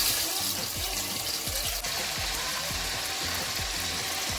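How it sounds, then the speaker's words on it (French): Fish frying in hot oil for Senegalese thieboudienne, a steady dense sizzle with watery bubbling throughout, fairly loud and continuous with no talk. "Je vais donc verser de l'huile et je vais frire le poisson."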